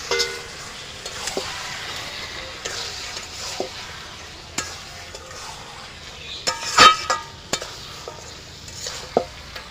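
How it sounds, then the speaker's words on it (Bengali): Chicken meat being sautéed with spices such as Kashmiri chili powder in a pan, giving a steady close sizzle and frying hiss with repeated scraping stirs and utensil clinks, no talking. "এবার আমি মাংসটা দিয়ে কষাবো"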